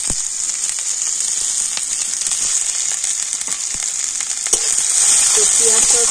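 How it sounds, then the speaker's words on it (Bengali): Finely chopped onion with green chillies frying in hot oil in a pan, a loud, continuous crackling sizzle with occasional sharper pops and faint utensil taps, growing slightly louder near the end, with no talking. "তো পেঁয়াজটাও কিন্তু তেলের উপরে একটুখানি ভেজে নেব"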